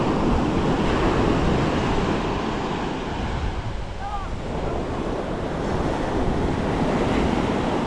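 Strong ocean waves at a Boracay beach, a continuous loud roar of surf with heavy wind buffeting the microphone and no clear talk.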